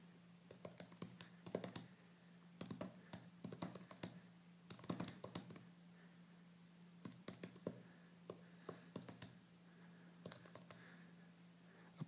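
Fingers type on a Touchfire keyboard laid over an iPad mini screen, producing quiet, close bursts of soft taps and clicks in irregular clusters over a faint steady hum.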